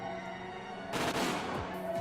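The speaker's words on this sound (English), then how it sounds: "With a cheap-sounding explosion, the area was filled with smoke" A firecracker trap in the Higurashi game goes off: a sudden burst of sharp, crackling pops over a steady background tone, loud and close, trailing into scattered snaps.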